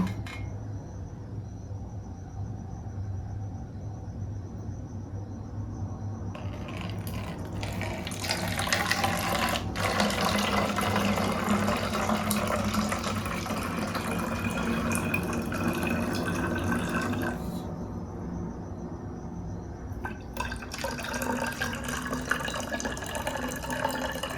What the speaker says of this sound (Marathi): आपण आता या बाटलीमध्ये ओतून घेऊ.